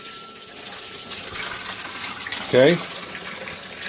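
An aquarium sump siphon moves water in a steady, low rushing flow, with a short louder gurgle near the end as a person speaks briefly over it.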